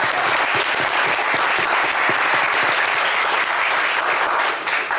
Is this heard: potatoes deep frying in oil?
no